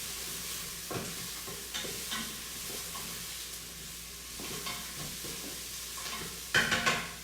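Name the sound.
stirring garlic and carrot frying in a pot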